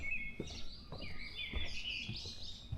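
A thrush calls in a Korean mountain forest, a clear, fairly close sustained song with several phrases, over a low rumble of ambient background and no speech.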